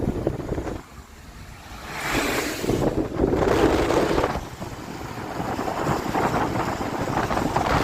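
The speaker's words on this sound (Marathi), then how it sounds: "वाटत ना गार गार अशी हवा सुटली आहे" A cold monsoon wind gusts through Phonda Ghat, roaring and buffeting in strong waves of noise. It eases briefly, then swells again and stays loud throughout.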